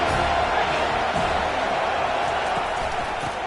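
A football stadium crowd roars loudly and steadily, a dense wash of cheering and shouting meant to disrupt the opposing offense pinned deep in its own end.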